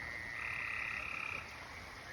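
Spring peepers and other frogs call at night in a summer chorus, a dense high trill that pulses steadily and rises briefly before easing back.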